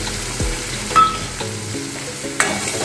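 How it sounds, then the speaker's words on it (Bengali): Bitter gourd frying in oil in a pan, a close sizzle with bursts of crackling and a few clinks or stirs, some louder spikes where pieces shift in the hot oil. "উচ্ছেটাকে ভাজা ভেজে এই তেলে দিচ্ছি।"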